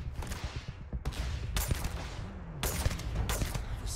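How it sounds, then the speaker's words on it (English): Gunfire in the sci-fi game Starfield: several sharp, loud shots in quick bursts, with sudden bright cracks and rumbling tails separated by short gaps, close and without talk. "Oh, I love the shooting in this game."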